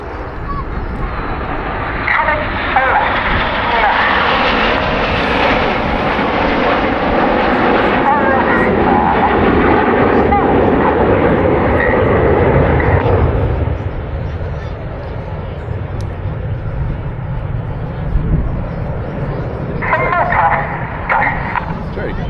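Red Arrows display jets flying in formation roar loudly overhead in a sustained, rolling wash of engine noise, with a commentator talking over it throughout.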